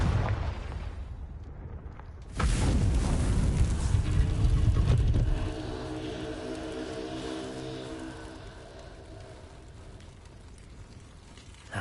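A Confringo blast spell going off in Hogwarts Legacy, a sudden loud booming explosion that holds for a few seconds and then fades into a long rumbling, ringing tail.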